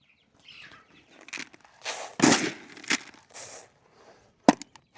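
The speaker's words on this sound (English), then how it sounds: "we get the meat birds out on pasture where they need to be" Meat chickens on pasture, scattered clucks and bursts of wing flapping and scratching close by, irregular and intermittent with quiet gaps between.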